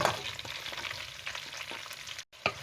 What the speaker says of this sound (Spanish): en el mismo aceite agregamos las cebollas, los dientes de ajos y el puerro.